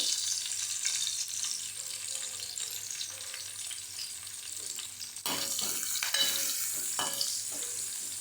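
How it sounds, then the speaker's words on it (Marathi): Garlic sizzles in hot oil with curry leaves in a pan for a capsicum vegetable dish, a quiet continuous frying hiss that jumps louder and busier midway as stirring and scraping join in; no one speaks. "चांगलं गरम होऊ द्यायचं लसूण टाकते"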